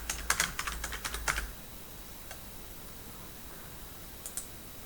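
A mouse clicks on a link in accounting software. A quick run of close, crisp clicks and taps comes first, then near silence and a single faint click near the end, with no talking.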